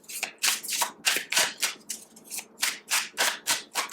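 A deck of oracle cards is shuffled by hand in quick, rhythmic bursts, about a dozen papery riffles and slaps close up with short gaps between them.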